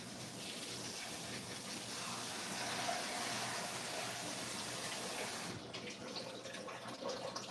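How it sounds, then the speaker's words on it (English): Vegetables rinsed under a running kitchen tap, a steady soft gush of water that carries on for several seconds, then cuts off into a quieter, duller trickle near the end. "Rinse these a little bit off."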